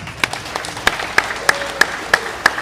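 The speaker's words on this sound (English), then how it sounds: "give everyone a round of applause" Audience applause at a live-streamed Balance & Flow Invitational final match: a sparse group of spectators clapping in a few distinct, fairly regular sharp claps over a faint background.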